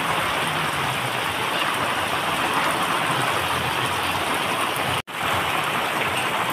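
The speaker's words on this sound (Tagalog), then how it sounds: "Tsaka palakas ng palakas yung bagyo" Steady, heavy rain hisses without a break during a strengthening typhoon in Olongapo, Zambales, with a dense broadband wash and a faint low rumble underneath, briefly cut off by a sharp dropout near the end.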